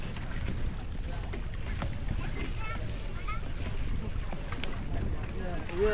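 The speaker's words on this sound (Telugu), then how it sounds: "బోట్ ఇటు ఇటు అవుతుందండి, జాగ్రత్తగా వెళ్ళాలి" Small boat rocking on Chilika Lake in Odisha, with water lapping and wind buffeting the microphone in a steady wash, while several people talk and call out over it.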